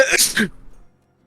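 A single close sneeze in a small room during a tabletop role-playing game session, sharp and brief, then quiet.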